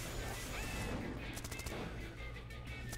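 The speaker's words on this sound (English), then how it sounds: "I'll shoot the minigun." A minigun fires in a video game, a faint, rapid, continuous burst of shots rattling for a few seconds.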